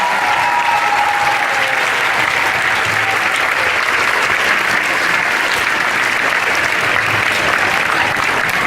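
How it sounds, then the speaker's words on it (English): An audience applauds loudly after a school winter concert by three student groups, filling the hall with steady, dense clapping that stays even and unbroken for nearly nine seconds. "let's give a big round of applause for all three of our groups tonight"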